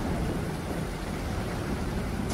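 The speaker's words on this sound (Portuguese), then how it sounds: "É chuva demais, não tem como, eu não consigo jogar na chuva" Heavy rain with thunderstorm rumble in the survival video game Stranded Deep, a dense, constant hiss of downpour over low rolling thunder, loud and unbroken throughout.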